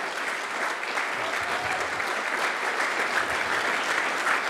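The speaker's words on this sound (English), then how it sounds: "So a huge round of applause to our speakers." A conference audience gives a sustained round of applause for the speakers, steady dense clapping from many hands at a moderate level throughout.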